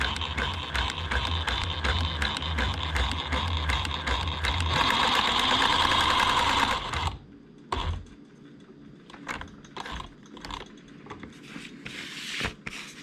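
A Singer 107w1 industrial sewing machine stitches a maxed-out zigzag, its rapid steady clatter running loud for about seven seconds before stopping abruptly, followed by scattered clicks and handling noises.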